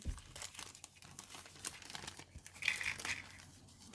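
A plastic bag holding parts of a Special Hobby 1/48 Miles Magister Mk.I model kit crinkles in irregular, close bursts of rustling that grow slightly louder toward the end.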